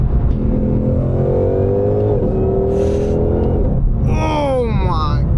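A Ford Shelby GT500 engine revs hard while driving, loud and close, with the pitch climbing through a gear, a quick shift and a second rising pull.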